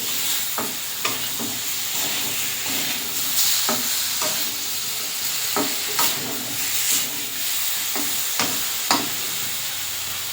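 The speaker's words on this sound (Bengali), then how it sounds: "দিয়ে একটু আলু মশলা ট্যাংরা মাছ একসঙ্গে একটু নেড়ে নেব।" Tangra fish with potato and spices being stirred in a pan in a village kitchen, a steady sizzle under repeated scraping strokes of the spatula, close and continuous with no talking.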